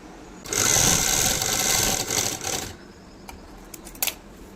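A newly bought sewing machine stitches in one loud, rapid, rattling burst lasting about two seconds. A few faint clicks follow once the motor stops.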